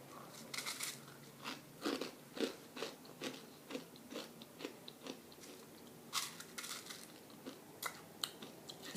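Baked Food for Life sprouted cereal is chewed up close, giving a steady run of crisp, crackly crunches in an irregular rhythm, with no talking.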